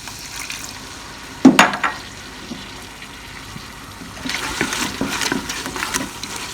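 Water poured onto minced keema frying in a pan, with a sharp splash followed by bubbling, hissing sizzle that swells again toward the end, close and fairly loud.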